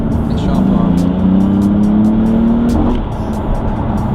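A BMW M3 accelerating hard, its engine note rising steadily for a few seconds before a gear change, loud from inside the car with a faint high whine riding on top, and someone talking over it.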